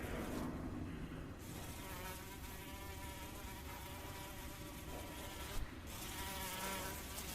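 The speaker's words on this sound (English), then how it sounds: "there are flies just constantly buzzing around down here" Flies buzzing steadily in a dim underground passage, a dense continuous insect drone filling the whole stretch without a break, fairly loud and close, with no voices over it.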